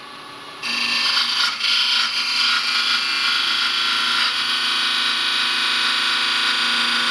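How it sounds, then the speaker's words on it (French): A small hand tool cuts through a turned wooden ring, giving a steady, close scraping and rasping that runs continuously for several seconds with no talk. "pour découper l'anneau, je me suis acheté un petit outil qui est très pratique"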